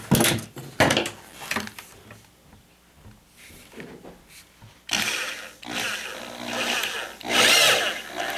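A tool cuts a burr from a hole in a plastic 5-gallon bucket, giving irregular close scraping and cutting bursts, with quieter pauses and then longer, louder grinding stretches toward the end.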